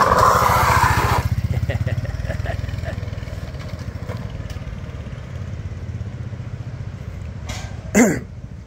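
A Yamaha PG-1 mini-scrambler motorcycle in Thailand idles loudly with a steady low thump, an engine rev at the start, then a brief sharp sound near the end, heard close and alone without talk.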